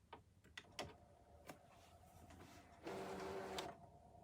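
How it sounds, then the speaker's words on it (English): A ScanNCut cutting machine loading a cutting mat, a short motorized whir heard faintly and near after several quiet clicks and ticks. "So I'm just going to load my mat into the machine."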